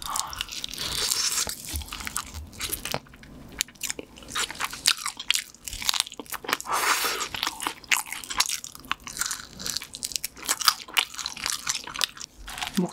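Crunchy fried chicken, part of a spicy-sweet chicken feast with beer, bitten and chewed close to the mic in repeated loud crisp crunches that run steadily throughout, with no talking.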